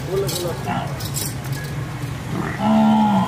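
An 11-month-old Sahiwal and Jersey cross heifer calf moos once near the end, a loud close low call, after a stretch of background talk and faint clinking.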